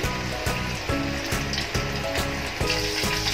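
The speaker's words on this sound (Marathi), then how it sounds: "पहिले तळून घेऊया, पुढचे टाकू." Veg Manchurian balls frying in hot oil, a loud close sizzle that keeps going, with regular clinks and taps from a utensil about every half second and no speech.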